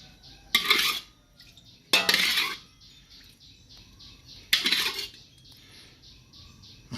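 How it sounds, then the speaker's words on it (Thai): Three sharp metallic clanks of a wok being set on a stovetop with coconut oil, separated by quiet pauses, close and fairly loud. "ตั้งกระทะใส่น้ำมันนะครับ"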